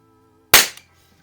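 A pump-up pneumatic air gun fires once with a single loud, sharp crack and a brief tail, close by after a quiet low hum, with no talking.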